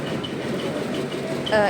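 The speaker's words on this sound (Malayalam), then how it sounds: "ഇതാണ് ട്രെയിൻ വരുന്നത്." A train pulls into a railway station in Mumbai with a continuous rolling rumble and wheel noise at moderate loudness. A brief tonal squeal rises near the end.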